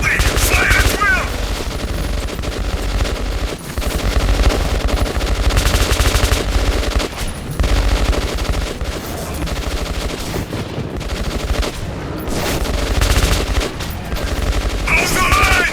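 Sustained automatic gunfire from soldiers in the video game Metro 2033 Redux, a loud, dense fusillade of rapid overlapping shots with hardly a break, close and dominant throughout.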